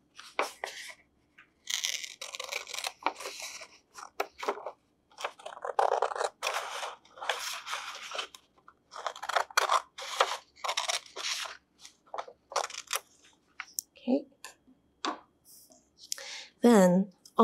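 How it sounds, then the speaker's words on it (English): Scissors snip a sheet of paper in half along a fold, producing a rapid run of crisp, close cuts and crunches with brief pauses, and faint voice sounds near the end. "we are going to cut this paper in half from this fold"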